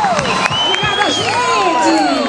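Open-air crowd in a town square cheering for a frevo singer at a festival, with loud whoops, shouts and scattered clapping in a dense, lively roar.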